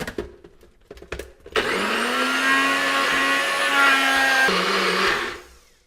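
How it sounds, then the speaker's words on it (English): A few knocks and clatters, then a blender roars to life blending spinach and other ingredients, whirring loudly and steadily for several seconds before winding down. "So throwing that into the blender and then combining those."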